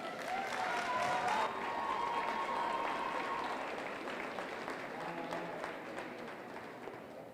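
A crowd at a youth fair commercial heifer show claps steadily in a sustained round of applause that slowly fades. A faint tone runs beneath it early on.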